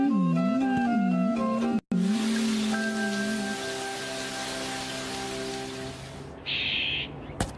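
Cartoon rain hisses as a steady wash of noise after a brief burst of tonal music, continuing evenly before a sharper hiss near the end.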